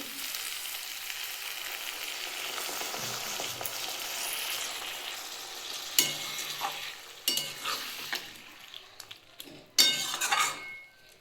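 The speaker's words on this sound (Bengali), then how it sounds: "কড়াইতে সামান্য একটু জল দিয়ে দেবো" Water splashed into a hot kadai while cooking Bengali sim paturi, giving a steady sizzle that then breaks into a few sharp spits and crackles with light clinks of utensils.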